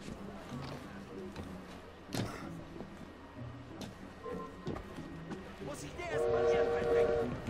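A train horn sounds inside the video game Assassin's Creed Syndicate, a steady tonal blast that rises near the end over busy game noise and occasional talk.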